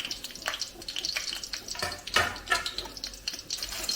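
Dried chillies heating in a pan for chicken curry, a steady crackling sizzle with bright spitting pops throughout, close and fairly loud, no voices.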